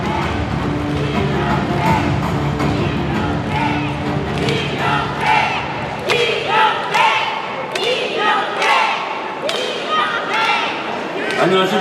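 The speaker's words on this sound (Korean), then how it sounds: "박수로 맞아주시기 바라겠습니다." An audience at a political party convention joint speech event applauds to welcome a candidate, dense crowd noise giving way to rhythmic, loud unison clapping with distinct sharp beats.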